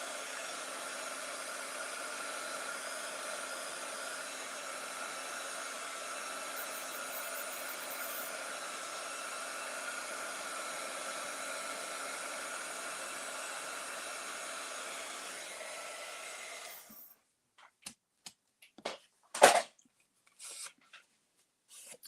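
A hair dryer blows steadily at close range for about sixteen seconds, then cuts off, followed by a few scattered knocks and handling sounds.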